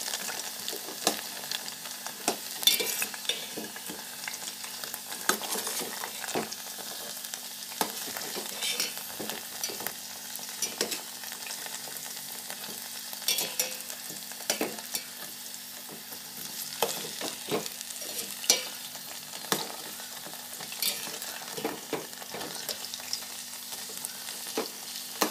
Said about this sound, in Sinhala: රන්වන් පාට වෙනකම් බඳින්න පොඩ්ඩක් බඳින්න